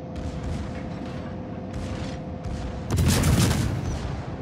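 Warship naval guns fire shells in a video game battle: a distant rumbling boom early on, then a loud, sharp broadside blast near the end that rolls out into a heavy, fading roar.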